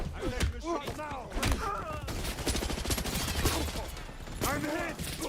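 Rapid video game gunfire, a dense stream of shots and thuds, rattling steadily under overlapping speech throughout.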